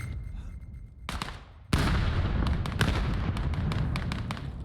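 A grenade detonates in the VR shooter VAIL VR during a competitive 5v5 esports match, a sudden loud blast with a sharp onset that leaves a sustained roar of rumbling debris and crackling reports.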